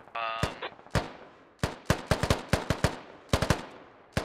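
Machine gun fire in a military video game, short bursts and single sharp reports spaced irregularly, loud and close, with a brief tonal beep at the start.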